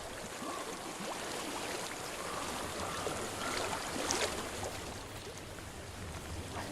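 A steady stream of flowing water rushes and trickles in the video game Hellblade: Senua's Sacrifice, an even, moderately loud watery wash that swells slightly midway and carries on without pause.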